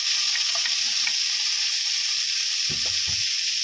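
Tomatoes go into a hot frying pan with a steady, loud, close sizzle throughout, and a couple of soft thuds and stirring knocks come near the end.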